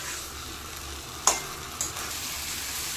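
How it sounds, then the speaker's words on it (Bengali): Vegetables and spices being stirred and fried in a pan for a vegetarian curry: a steady soft sizzle, broken by two sharp scrapes of the spoon against the pan. "এক মিনিট সুন্দর মতো একটু সবকিছু একসাথে নেড়ে চেড়ে কষে নেব।"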